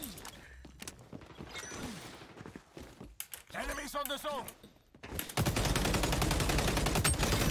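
Gunfire in the XDefiant arena shooter with an ACR 6.8 rifle: scattered shots and clicks with someone talking over them, building to a loud, dense stretch of rapid fire at the end.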